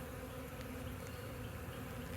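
A swarm of bees drones steadily around a log hive freshly removed and set down near its old spot, a dense continuous buzz close by with no pauses or voices.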